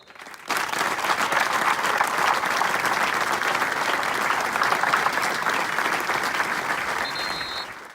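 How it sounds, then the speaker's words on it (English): Football crowd at East Kilbride v Cove Rangers at K Park gives a minute's applause, starting abruptly and holding as a broad, loud, sustained wash of clapping from the stands. "everyone at K Park observed a minute's applause in memory of legendary Celtic captain and Lisbon Lion Billy McNeill"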